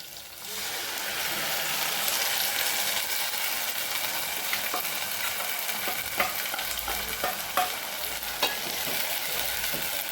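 Onions and ground tomato sauté in oil for okra curry, a continuous loud sizzle with intermittent spatula scrapes and taps against the pan, and no speech.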